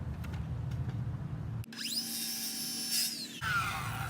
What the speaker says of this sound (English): now we're just going to cut out that little section right there. The old Ryobi circular saw.